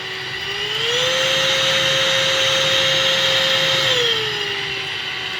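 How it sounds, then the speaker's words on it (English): A VAX Blade 32v Pro cordless vacuum's steady motor whine rises in pitch and intensity for a few seconds in boost mode, then drops back to a lower, softer hum. "You'll be able to hear the motor whir up a bit more."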